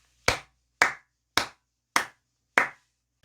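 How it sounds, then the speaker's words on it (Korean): Five sharp hand claps, evenly spaced about half a second apart, loud and close, with silence between each. "크게 박수 한번 치고 가도록 하겠습니다"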